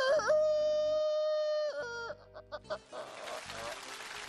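A traditional Chinese vocal mimicry performer imitates a rooster with his voice, one long sustained crowing call followed by short clucking bursts and then a noisier stretch.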